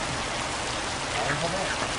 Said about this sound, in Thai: รีบกลับก่อนเดี๋ยวฝนจะตกหนักกว่านี้ครับ